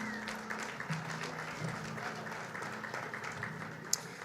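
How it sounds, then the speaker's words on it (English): An audience at a golf league draft event applauds in a steady, moderately distant wash of clapping with one sharper clap standing out near the end. "Please give them a round of applause, ladies and gentlemen."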